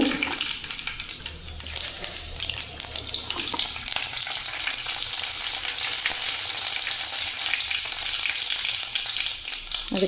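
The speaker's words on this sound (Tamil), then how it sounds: "அதனால் நல்லெண்ணெய் கொஞ்சமாக கடுகு" Mustard seeds fry in sesame oil for a fish curry, a loud continuous crackling hiss close by with dense spattering throughout.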